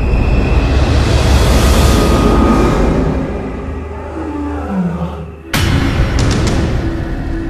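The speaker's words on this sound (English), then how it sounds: "This roar from afar is a sound that spells trouble." A lion roars in the wild, a deep, sustained rumble that fills the first few seconds and then fades, followed by a sharp sudden burst and continued low rumbling.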